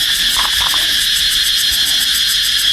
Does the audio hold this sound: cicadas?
yes